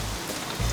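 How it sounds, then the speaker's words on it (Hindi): Heavy rain pours down in a steady, dense wash of noise, loud and close, with no voices. "यहाँ इतनी बरसात हो रही है"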